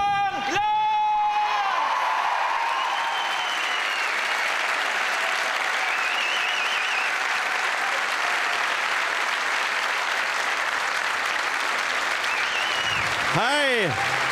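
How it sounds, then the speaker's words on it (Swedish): A live comedy show audience claps and cheers for a comedian taking the stage, a loud, dense wave of applause sustained throughout with whoops layered over it. "Jag vill att ni ger en stor applåd till Eslövs egen King of Comedy, Johan Glans!"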